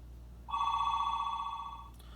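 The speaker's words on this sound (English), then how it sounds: "Phone was ringing" A telephone rings once in a single sustained electronic trill lasting about a second and a half, fairly close and clear against a quiet room, with no talk.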